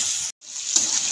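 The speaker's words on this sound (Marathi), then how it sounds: "आणखी भेंडी फ्राय करून घेत आहे" Okra fries in a pan over medium heat with a bright constant sizzle, broken by a short silent gap before the frying hiss resumes.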